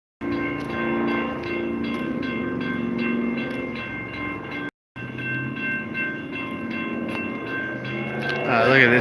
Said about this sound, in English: I never saw a train here this long.